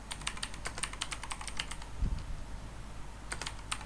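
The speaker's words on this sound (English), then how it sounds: "you need to open up your terminal and type pip install" Rapid clatter of keys on a computer keyboard as a terminal command is typed, with a burst of keystrokes at the start, a pause, then a few final taps; close and fairly quiet.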